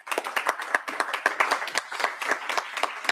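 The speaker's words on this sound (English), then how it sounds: "Let's give him a round of applause." Steady, dense clapping fills a state House transportation subcommittee hearing room as members applaud a seventh-grade guest, a continuous round without speech.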